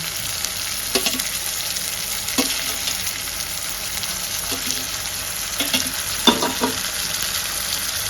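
Tomatoes stirred into onions frying to golden in a pan for a broiler chicken curry, a continuous close sizzle with several distinct scraping and clattering strokes of the spoon spaced through it, no talk.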